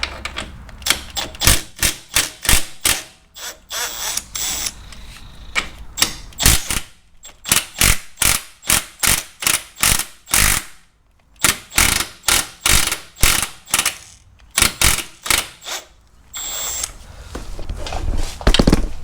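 A hand ratchet clicks rapidly in bursts as 13 mm bolts are undone on an Audi S4 B8.5 engine, loud and close, with short pauses between runs of clicking.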